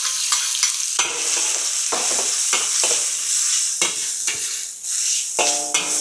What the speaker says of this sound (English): now we add the shrimp.